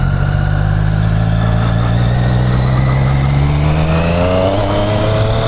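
A 2017 Triumph Street Triple RS motorcycle engine drones loud and close, a steady humming tone that rises in pitch toward the end as the bike accelerates.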